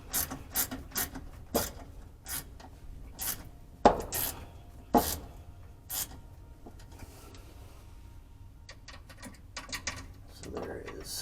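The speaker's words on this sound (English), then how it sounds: "I'm using a ratchet to do this because I don't want to get a screwdriver up in here" A ratchet clicks in short bursts while turning bolts on the fuel sending unit of a 1976 Cadillac Eldorado, close and fairly quiet, with scattered metallic taps and pauses between strokes.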